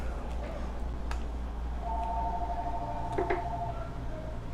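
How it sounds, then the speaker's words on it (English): A telephone rings with a steady electronic tone lasting a couple of seconds, mid-level over a constant low engine-like hum and faint room noise. "Y'all didn't tell me the phone was ringing."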